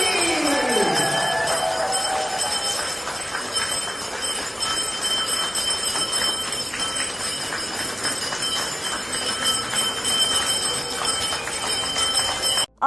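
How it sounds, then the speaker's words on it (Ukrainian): A school bell rings on the first day of classes in the Kharkiv metro, heard over a steady underground station background with broad hum and faint tonal ringing that persists throughout. "Наступне відео першого дзвінка у метро Харкова"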